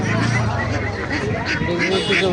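Ducks quack and honk repeatedly over a busy crowd murmur, with people talking nearby in a noisy poultry market in Kotiadi, Kishoreganj, Bangladesh.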